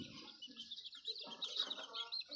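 Boston and Devil White cross chickens clucking and calling in a pen, several birds with irregular short clucks and chirps, close and moderately loud, no talk.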